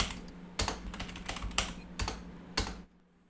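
Someone types a password on a computer keyboard, a short run of close, crisp keystrokes with a few heavier key presses, ending in quiet.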